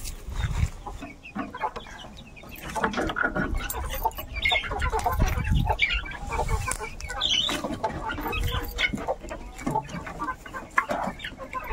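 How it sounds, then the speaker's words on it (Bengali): Several chickens clucking and cackling close by, busy overlapping calls throughout with rustling and scuffling. "মুরগিগুলো একটু প্রাণ পেলো"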